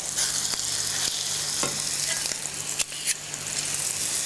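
Pork neck meat sears in a hot pan with a loud, steady sizzle and hiss from start to finish. A few faint clicks and knocks sound over it.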